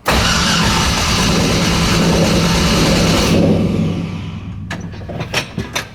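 A BMW E30 fitted with an LS1 V8 fires up and runs, a loud steady engine roar that drops off after a few seconds to a quieter idle with short clicks and blips.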